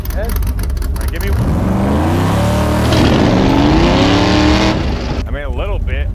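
A V8-swapped Mazda RX-7 revving hard in second gear while trying for a burnout, a loud, close engine roar that climbs in pitch and drops back, with a shift, under a continuous background drone.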